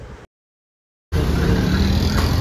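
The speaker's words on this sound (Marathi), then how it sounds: "रिक्षा देखील लवकरात लवकर स्टेशनला जातो आपण." Engine rumble of an auto rickshaw riding toward the station, a brief burst, then a gap of silence, then a steady close road-noise drone.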